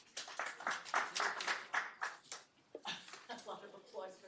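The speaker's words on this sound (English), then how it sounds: "A lot of applause for that one." Audience members at a regular council meeting clap in a short burst of applause, a quick patter of hands that rises and then thins out into scattered claps.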